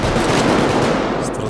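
Sustained machine gun fire in the video game Payday 2, a loud, dense and unbroken burst of rapid shots with a harsh, crowded texture.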